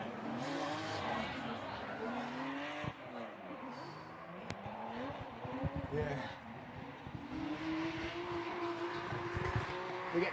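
A drift car on its outlap warms its tyres by drifting, its engine note rising and falling with revs over intermittent tyre squeal, heard from a distance while commentators talk over it.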